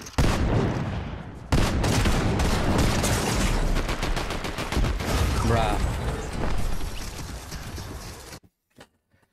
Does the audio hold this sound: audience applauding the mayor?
no